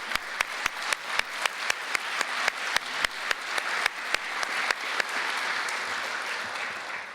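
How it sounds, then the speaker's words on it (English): Audience applause at a formal Nobel Prize tenth-anniversary celebration at Queen's University, a dense steady wash of clapping from a large crowd with a few sharp, regular louder claps standing out near the front before it settles into an even roar. "Maybe one more round of applause so I can compose myself"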